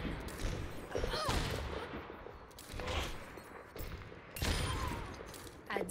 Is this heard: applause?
no